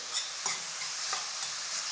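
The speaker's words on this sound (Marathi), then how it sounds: "या भाज्या आता दोन ते तीन मिनटांसाठी मोठ्या आचेवरच फ्राय करूया" Vegetables stir-fry on high flame in a thin wok, a dense hissing sizzle broken by a few scraping stirs of a spatula, close up and steady.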